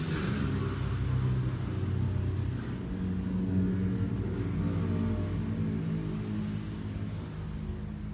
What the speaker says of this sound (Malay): So nanti dengarlah bunyi motor bising